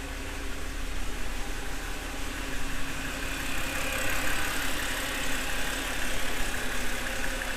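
BMW E90 engine running in gear with the wheels turning, a steady close mechanical hum and drone with faint knocking, continuous and fairly loud throughout, with no voices.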